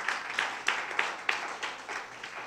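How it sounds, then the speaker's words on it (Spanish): A church congregation at an evangelistic service claps in a loose, rhythmic way, the beats rising in distinct pulses about every third of a second, moderately loud and without speech. "Dele un aplauso al Señor"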